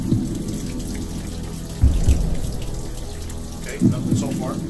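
Water splashes and pours over an all-weather notepad in a steady wash, with a couple of louder gushes as the soaked pages take the stream.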